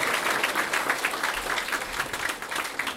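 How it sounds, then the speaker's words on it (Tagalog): Audience applause for Randy Atienza at an AIM Global opportunity presentation, a steady wash of clapping from a crowd, fairly faint and even throughout. "Kaya palakpak na malakas for Mr."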